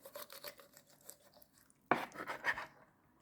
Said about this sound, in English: I'm gonna cut the wings from the tip